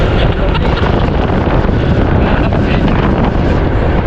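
Strong wind roars and buffets the microphone continuously, a loud, steady rumbling gust with no pauses.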